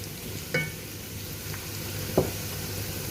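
Steady sizzling of garlic and onions sautéing in a pan, a constant crackling hiss with a few soft clinks of a utensil stirring.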